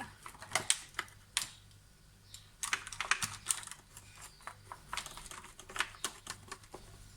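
A large baked mushroom burger being cut into small bite-sized pieces, giving quick, irregular crisp tapping and crunching knife strikes up close, faint and dry, with no talk over them.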